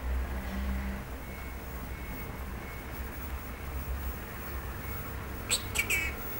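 A Senegal parrot stays silent through a low, steady room hum, then lets out two or three quick, high chirps close together near the end.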